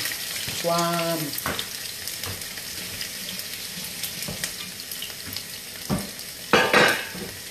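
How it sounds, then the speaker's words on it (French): Onions sizzle loudly in a hot pan with a steady crackle and spatter, punctuated by brief clinks and a burst of stirring near the end. "Vous voyez comment mes oignons sont en train de chouamer là."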